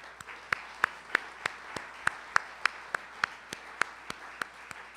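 An audience at a DC Central Kitchen event with the mayor gives sparse, sharp handclaps at a steady, evenly spaced rhythm. The clapping sounds fairly faint and distant, over a quiet room background.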